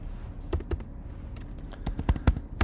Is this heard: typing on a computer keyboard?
yes